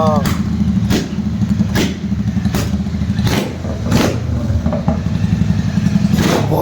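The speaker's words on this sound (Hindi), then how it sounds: "क्या लाउड एग्जॉस्ट था" Royal Enfield Super Meteor 650 with a modified loud exhaust, one silencer removed, gives a steady, deep engine rumble with a few sharper bursts, close by, while people talk over it.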